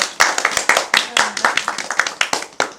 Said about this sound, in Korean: 네, 맞습니다. 박수.